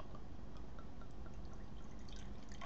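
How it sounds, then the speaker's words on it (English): Hook Norton Twelve Days beer being poured from a bottle into a mug glass, a steady liquid trickle and splash running close and continuous throughout. "I'm a bit uncoordinated to pour with my left hand"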